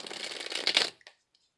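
A round tarot deck is shuffled by hand in a quick burst of riffling card flutter, close and fairly soft, ending with a couple of light taps before quiet.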